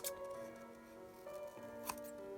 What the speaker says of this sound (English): take your scissors and just cut the edges off